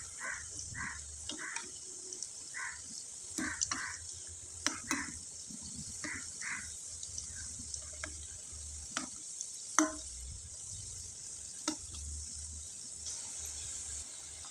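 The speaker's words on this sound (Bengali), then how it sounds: "আমি একটু সময় নিয়ে একবারে মুচমুচে করে ভেজে নিলাম" Flour snacks stuffed with coconut filling deep-fry until crisp, giving a faint, steady sizzling hiss broken by scattered soft clinks and taps.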